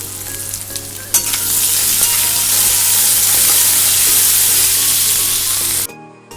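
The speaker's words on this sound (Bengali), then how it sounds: "দিয়ে দেবো দুটো তেজপাতা। সমস্ত মশলাকে ভালো করে আমি কষিয়ে নেব।" Spices and two bay leaves fry in hot oil while being stirred, a loud continuous sizzle with scraping stirs that cuts off abruptly near the end.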